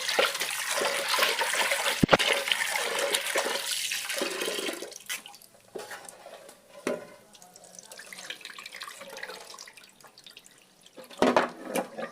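Moong dal lentils being washed in water, with steady splashing and running-tap sound that is loudest early, then quieter swishing and occasional louder splashes.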